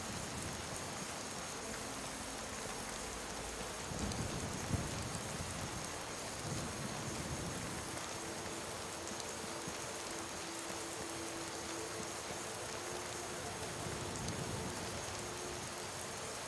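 Steady rain falling in the video game Skyrim, a soft even hiss with faint low rumbles of thunder and a few brief thumps, quiet and constant, no talk.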